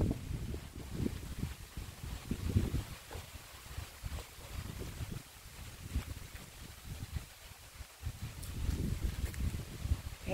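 Wind and steady rain outside the front of a house under a grey sky, a continuous rushing wash of gusts and falling water that swells and eases throughout, with no voices.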